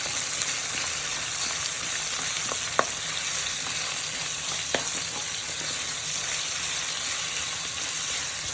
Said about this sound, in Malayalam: ആ ഫുൾ സവാള ഒന്ന് ഇതിനകത്തേക്ക് ഇട്ടു നന്നായിട്ടൊന്ന് മിക്സാക്കി കൊടുക്കണം.